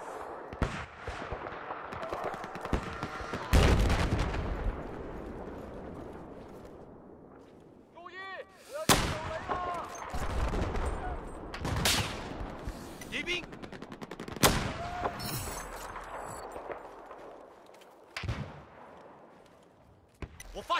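Machine gun fire in Battlefield 4 on the Golmud Railway map during a sniper team deathmatch, repeated bursts of rapid automatic shots and sharp single cracks at varied distances, with a voice speaking in game over the action.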